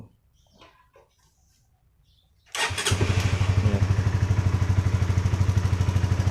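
A Honda CBR150 motorcycle engine fires up after a few seconds of near silence, catching at once and settling into a loud, steady, rapidly pulsing idle close by.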